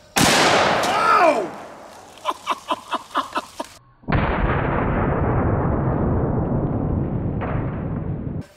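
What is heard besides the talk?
460 revolver shot exploding a can of pork and beans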